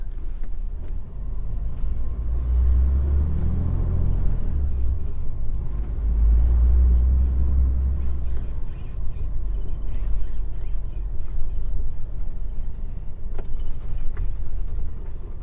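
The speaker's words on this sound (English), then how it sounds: "definitely made this truck struggle a bit anyway" A truck engine straining uphill, a steady low rumbling drone with swells in the middle, continuous and close, with no talking.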